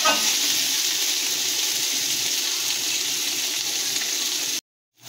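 Ginger-garlic paste sautéing in a frying pan gives a steady, close, loud sizzle that runs unbroken for several seconds, then cuts out abruptly near the end.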